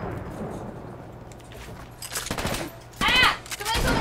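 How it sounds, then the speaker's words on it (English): Rapid bursts of gunfire in a Fortnite match come from a shooter up on a roof, with a sharp louder volley near the end; voices call out over the shots. "Somebody's on the roof shooting me!"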